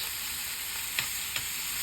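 Steak sizzling in a pan, a constant close hiss broken by two brief louder pops or scrapes.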